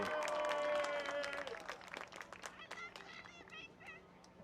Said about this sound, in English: Please give these 5 seniors and their families a big round of applause